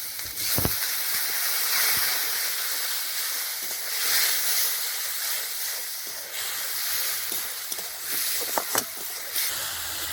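Spices frying for a rohu fish curry with cauliflower hiss and sizzle steadily after water is poured into the pan, a broad close sputter with a few sharper pops and crackles scattered through.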